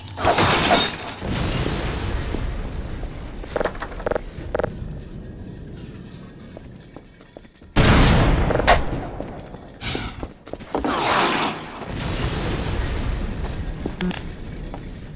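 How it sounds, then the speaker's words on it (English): Physics objects jamming a gun mechanism in Half-Life 2: Lost Coast until it breaks, with loud shattering crashes and thuds at the start and midway, then clattering debris and lingering rumble between. "the player gets to use physics to jam the gun's mechanism and cause it to break"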